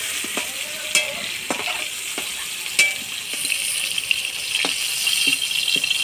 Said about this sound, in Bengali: আলু পটলটা ভাজে নিলাম,